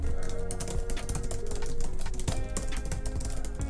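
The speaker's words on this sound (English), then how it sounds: "The tactical response and audible feedback while typing is literally light years ahead of any non-mechanical keyboard I've typed on" Fast typing on a mechanical keyboard produces a dense, continuous clatter of crisp, closely spaced key clicks, close and loud throughout.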